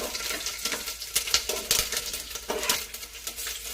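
Grated coconut scraped and stirred in a pan while it browns, for steamed Kannur kalathappam; a close, steady run of spoon-on-metal scrapes and light rustling with soft sizzle underneath, no voices.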